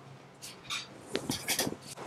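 A spoon mixing mascarpone, salt and pesto in a bowl, giving several light clinks and scrapes against the dish, close by and fairly quiet with no talking.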